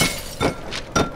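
Objects smashing in the horror game Amnesia: The Dark Descent, three short crashing bursts spaced across about a second, each a sharp breaking impact with a brief shattering tail.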